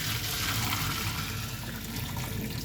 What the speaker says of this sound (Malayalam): ഇനി നമുക്കിത് ഡ്രെയിൻ ചെയ്തെടുക്കാം.